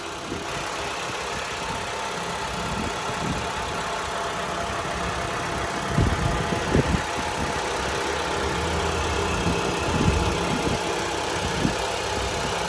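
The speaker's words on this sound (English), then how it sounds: "I do have the vehicle running as well, so at least you know it's got an engine and it works." A 2018 Mitsubishi ASX engine idles steadily with a low rumble, punctuated by a few soft thumps and knocks near the middle and end.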